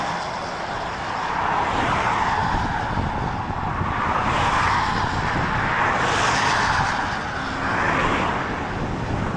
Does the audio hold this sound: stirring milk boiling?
no